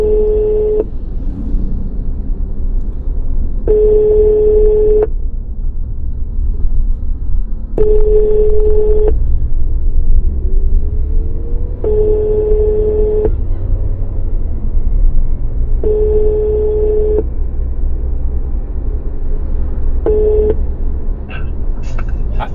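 Repeated beeping phone tones while a call connects, six evenly spaced steady tone bursts about every four seconds over a constant low rumble of traffic in a roadside area of Djagblé, Togo.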